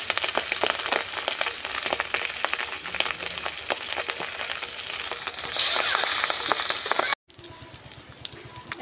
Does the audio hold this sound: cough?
no